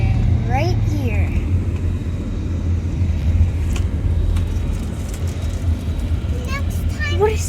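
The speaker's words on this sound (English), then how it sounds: "What is this truck doing? It can't go any faster." A slow truck rolls along a canyon road with a steady low engine rumble and road noise that holds constant throughout, heard from close by inside a vehicle.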